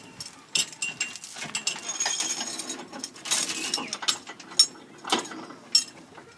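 Hand crank on the tongue jack of an 18 ft Ameri-lite camper trailer, turned in a run of dry metallic ratcheting clicks and clanks, close by and irregular, with no talking.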